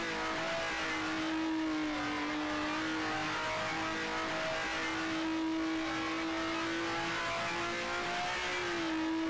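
A 1967 Eagle F1 race car in Grand Prix Legends holds a steady, loud engine drone at near-constant pitch. The pitch wavers only slightly as the throttle shifts, with no talk.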